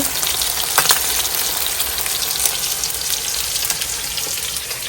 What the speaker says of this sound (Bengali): ফিশ ফ্রাই করে নিচ্ছি